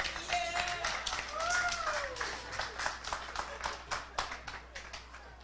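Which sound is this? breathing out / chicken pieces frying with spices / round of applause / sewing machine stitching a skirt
round of applause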